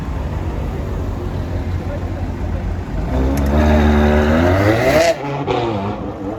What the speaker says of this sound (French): Tu peux regarder la SA Aperta qui repasse ici.